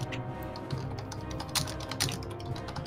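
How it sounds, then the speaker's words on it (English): Rapid clicking of computer keyboard typing, quiet and close, with irregular bursts of keystrokes running steadily throughout. "who's typing?"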